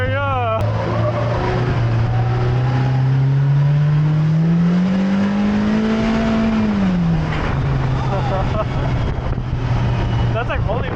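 A Toyota Supra's turbo engine accelerates up close, its tone rising steadily in pitch and then dropping as the revs fall, with tire noise beneath and people talking over it.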